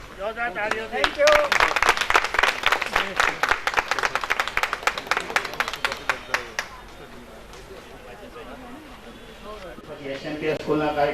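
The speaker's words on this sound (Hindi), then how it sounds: "जोरदार तालियों से।" An audience at a ration kit distribution event claps loudly and in ragged rhythm for about six seconds, then fades, and a person begins speaking over quiet room noise.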